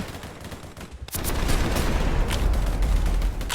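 Sustained rapid gunfire from a player-built long-range gun in a video game, starting abruptly after a quieter moment and continuing as a dense, loud, unbroken barrage.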